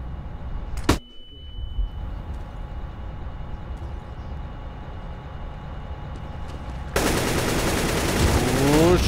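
Counter-Strike gunfire on de_overpass in a professional esports final between Cloud9 and fnatic: one sharp shot rings out, then a steady hum of game ambience, and a dense burst of rapid automatic spray starts near the end.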